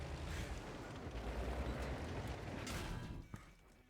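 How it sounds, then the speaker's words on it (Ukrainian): Muffled gunfire and explosive blasts in a team battle video game, a continuous rumbling roar with a sharp pop near the end, fairly faint overall. "Котеха по мені стріляє."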